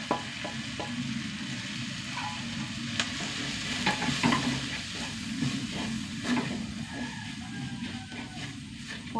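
Turmeric, chilli and sambar powders frying in a pan for a Kerala dish, a steady close sizzle broken by repeated scraping strokes of a stirring spoon.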